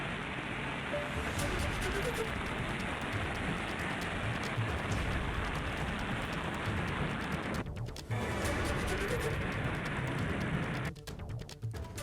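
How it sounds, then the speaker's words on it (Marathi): Heavy monsoon rain pours down steadily over Raigad district during days of flooding downpour, a dense, continuous hiss close by with no pauses, briefly interrupted by two short dropouts. "रायगड जिल्ह्यात मागील 5 दिवसांपासून कोसळत असलेल्या मुसळधार पावसामुळे अनेक नद्यांच्या पाणी पातळीत मोठी वाढ झाली आहे"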